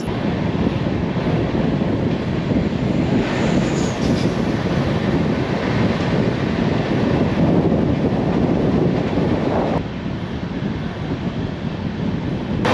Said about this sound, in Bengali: এবার আমাদের ক্রস করবে চোদ্দ দুশো চোদ্দো বারাণসী ইন্টারসিটি এক্সপ্রেস